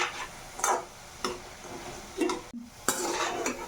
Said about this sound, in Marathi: भजे फ्राय होत आहे, त्याला थोडा लालसर कलर येईपर्यंत फ्राय करायचे।